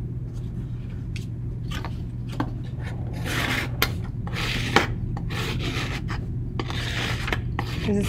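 A pencil scores lines into a body skimmer surfboard, giving a continuous scratchy rasping and rubbing with bursts of harder strokes, close and steady under a low background hum.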